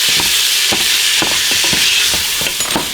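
Ground hamburger meat gets broken up and stirred in a hot pot for a creamy lasagna soup, a steady loud sizzle with repeated scraping pushes of the spoon.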